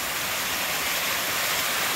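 A waterfall at a scenic natural spot with crystal-clear water and natural pools: dense, steady rushing water noise, close and continuous, with no voices.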